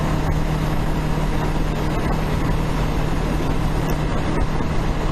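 A Honda CB500X motorcycle ridden along Marron Valley Road, a steady loud engine drone mixed with constant wind rush, no breaks or pauses throughout.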